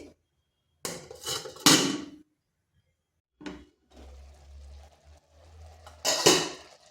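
A lid goes onto a pot of boiling lentils with a few sharp metallic clanks and rattles, followed by a low bubbling hum and another clattering knock near the end.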